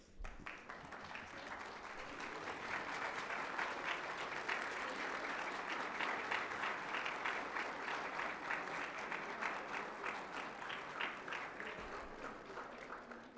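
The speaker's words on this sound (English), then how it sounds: "stand and applaud the teachers that have helped" At an NTHS induction ceremony, a standing audience applauds its teachers with a sustained, even wash of clapping that holds for the whole stretch and tails off slightly at the end.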